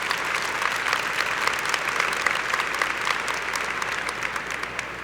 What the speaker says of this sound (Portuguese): Aqui eu queria te convidar a dar uma forte salva de palmas para Jesus Cristo